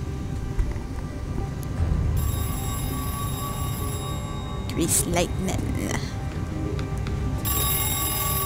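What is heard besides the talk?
red telephone ringing in the video game MISSING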